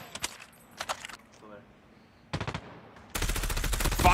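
Video game gunfire during a 1v1 tournament gunfight: scattered single shots and short bursts, then a sustained loud barrage of rapid fire near the end.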